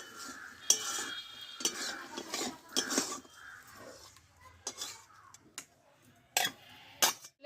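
Spoon scraping and clinking against a pan as flat bean curry is stirred, a meat-free home-cooked dish, in irregular close knocks and scrapes with quiet pauses between them.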